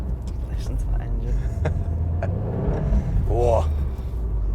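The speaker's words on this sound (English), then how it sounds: "Listen to that engine." A Subaru WRX STI engine rumbles low and steady from inside the cabin, rising briefly near the end, with people talking over it.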